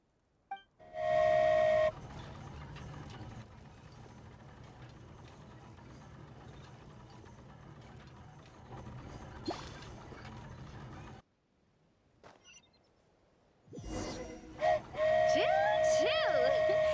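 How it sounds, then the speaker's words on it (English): A whistle sounds as a flying train, the Aerial Express in the video game Genshin Impact, departs, with mechanical rattling and rail noise throughout and a loud tonal whistle returning near the end. "Choo-choo! Aerial Express moving out."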